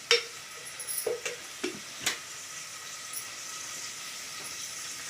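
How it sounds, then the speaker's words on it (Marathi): Onion sizzles in oil in a home kitchen pan, a faint steady hiss broken by several short scraping stir sounds early on, with no talking. "छान असं मस्त लालसर भाजून घेऊ कांदा"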